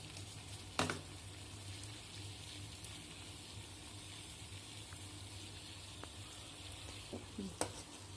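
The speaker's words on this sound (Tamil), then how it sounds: "தண்ணி இப்போ கொதிக்குது நல்லா." Water with flax seeds boils on a stove, giving a faint, steady bubbling and sizzling hiss with a few light knocks and clicks.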